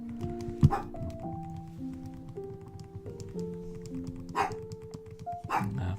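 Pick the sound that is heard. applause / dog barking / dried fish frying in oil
dog barking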